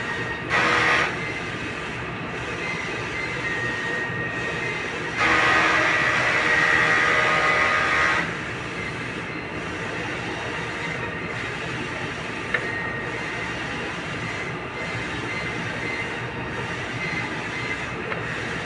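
A six-foot, four-head sublimation printer runs its head cleaning cycle, a steady mechanical whir broken by two louder bursts of hissing and rattling, with faint regular clicks spaced through the rest.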